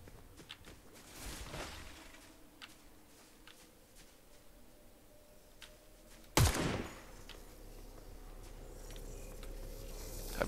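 Gunfire in the video game Fortnite: a couple of sharp shots ring out, one early and a louder, harder blast a few seconds later, over a steady low game ambience.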